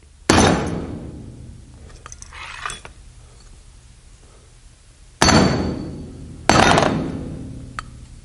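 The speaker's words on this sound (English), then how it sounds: "And we'll gingerly remove the piston." Metal clutch piston being worked out of a 6L80 automatic transmission during an overhaul, heard as several sharp metallic clanks and knocks close by, with quieter scraping and rattling in between.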